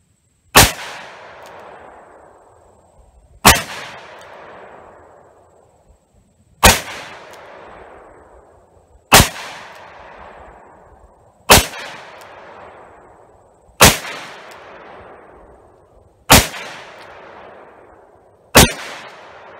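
Eight sharp, loud .357 Magnum revolver shots from a Smith & Wesson R8 Performance Center with an eight-shot full moon clip, fired at a steady pace roughly two to three seconds apart, each crack trailing off into a short ringing decay with no talk.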